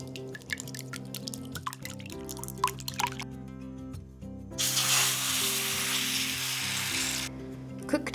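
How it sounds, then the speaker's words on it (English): Beaten egg cooks in a thin layer in a pan: a quiet sizzle with a few drips at first, then a loud burst of frying as it hits the hot surface, holding steady before dropping off. "Cook the beaten egg in a thin layer."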